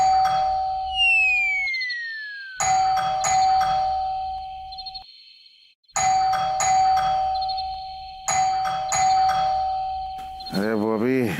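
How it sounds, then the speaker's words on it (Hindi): Plain electronic ringtone from a mobile phone, a repeating two-tone chime pattern sounding in bursts with short gaps, fairly loud and near, ending in a warbling tone; no talk over it. "अरे मोबाइल बज रहा है तुम्हारा, बंद करो"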